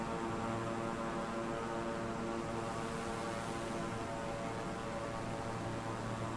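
A loud, steady video game airplane engine drone holds evenly throughout, a dense constant hum with no other sounds breaking through.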